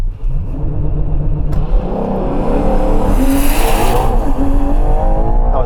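A Ferrari Purosangue V12 SUV accelerates hard at full throttle during a quarter-mile run. The engine note is loud and close, rising steadily through the revs with no one speaking over it.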